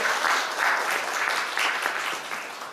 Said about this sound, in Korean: 다시 한번 박수로 환영하십시오.